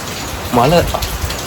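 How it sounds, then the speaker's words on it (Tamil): Steady rain falls in a dense, even hiss across the whole stretch, with a brief voice heard partway through over the patter. "மழை பெய்யுதுங்க."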